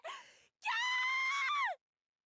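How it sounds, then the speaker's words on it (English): Two screams in the Death end re;Quest game during a village massacre: a short cry, then a long, loud, sustained high-pitched scream that falls off at the end, followed by silence. "No, these are genuine screams."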